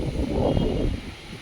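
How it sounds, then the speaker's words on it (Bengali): Strong wind gusting outdoors in a rural area on a morning ahead of expected rain: a broad low rumble and buffeting that swells and then eases over the short stretch, with no talking. "খুব হাওয়া দিচ্ছে, এবার কতটা বৃষ্টি হবে এটাই হচ্ছে কথা। প্রচণ্ড হাওয়া দিচ্ছে"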